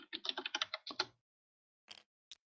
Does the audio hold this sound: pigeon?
no